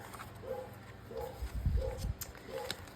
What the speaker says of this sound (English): I apologize if you can hear the barking in the distance.